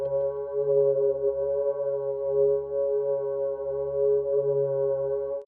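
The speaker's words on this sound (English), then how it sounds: "Just this nice little chorusy organ." A vintage B3 organ pad from Logic in an indie rock setup, run through chorus and an 8th-note triplet tape delay. One rich chord holds steady and loud for about five seconds, alone, then cuts off.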